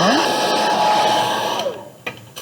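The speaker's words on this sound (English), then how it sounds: "I'll dry that with the hairdryer real quickly" A hair dryer blows steadily on watercolor paint for holiday cards, loud and continuous with no voices, then cuts off near the end, leaving a couple of faint clicks.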